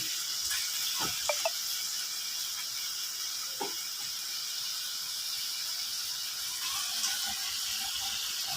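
Water is poured into a cooking pot of kangkong and chili, giving a steady close hiss of running liquid with a few small clinks and knocks near the start, and no voices.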